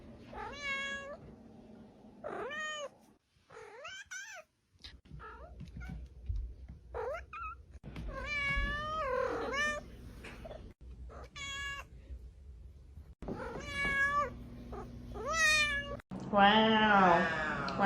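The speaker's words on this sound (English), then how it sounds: "My cat meows every time she gets pets." A cat meows repeatedly while being petted, a series of close, loud, rising and falling meows separated by short pauses, ending in a drawn-out, wavering cry.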